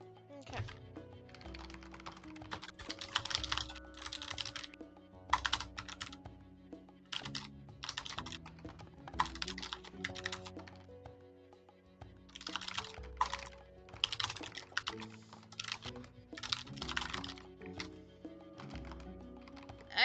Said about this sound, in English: I was just like, there's my typing